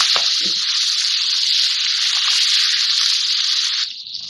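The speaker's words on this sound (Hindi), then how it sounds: "थोड़ा सा मिर्चों को फ्राई करूँगी मैं इसके साथ, लहसुन और जीरे के साथ।" Green chilies fry in oil with garlic and cumin, giving a loud, close, steady hiss of sizzling that runs without a break and eases slightly near the end.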